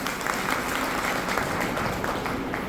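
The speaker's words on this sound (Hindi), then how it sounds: "और उनके संबंध में एक बार जोरदार तालियां हो जाए साथी," An audience at a corporate networking meeting claps steadily and fairly loudly, a dense run of applause heard from within the room.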